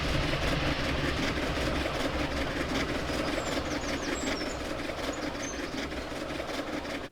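An EE-era freight train rumbles steadily on its return to the yard near Cincinnati, a continuous heavy low engine drone and rolling rail noise with faint high squeals, loud and unbroken throughout before cutting off.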